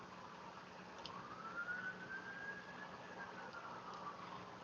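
An emergency siren wails at a distance through a busy neighborhood, a single slow rising and falling tone drifting past over steady low traffic rumble, with no talking.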